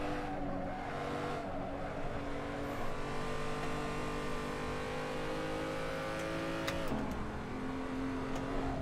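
A race car's engine drones and revs in an Assetto Corsa online ranked race, a sustained high whine climbing steadily in pitch, then a sharp downshift with a brief squeal near the end before pulling again; no voices.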